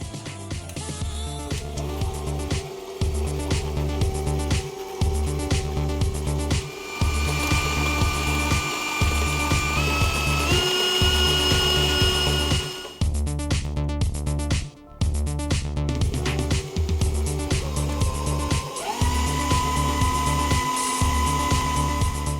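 An electric mixer on slow speed beats cake batter with a steady motor hum that pulses in a regular rhythm, briefly cutting out twice, with no talking.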